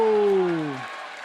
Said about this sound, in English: The crowd's capacity to erupt is truly amazing.